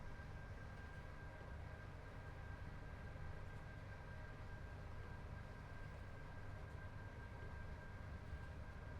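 A train rumbles along steadily in Train Sim World 5 on the West Coast Main Line between Carlisle and Preston, a constant low drone with a faint steady tone above it.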